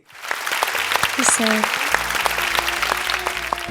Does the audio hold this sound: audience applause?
yes